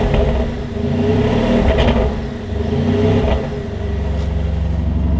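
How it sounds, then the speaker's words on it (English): A Novitec-tuned Lamborghini Urus SE V8 SUV gives a couple of quick revs, its deep exhaust rising and falling in two loud swells over a rumbling idle, heard up close with no talking. "I'll give it a couple of quick revs."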